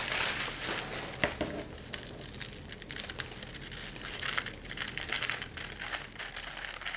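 A paper sewing pattern for a turtleneck neckline is cut with a steady stream of close crinkling and rustling, plus a few sharper snips, with no talking.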